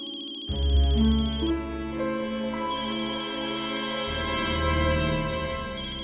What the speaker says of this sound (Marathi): राजचा फोन आहे.